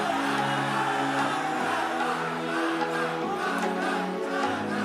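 A large arena crowd at an esports grand final roars and shouts continuously, a dense, sustained wall of voices filling the space with no break.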